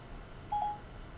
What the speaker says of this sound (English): we want to make a phone call